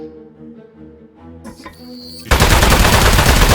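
Rapid automatic gunfire erupts suddenly in the Aperture Desk Job video game, a loud continuous burst aimed at the boss, following a short stretch of tonal game music and effects.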